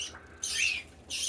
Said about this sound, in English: What a good little baby bird you are.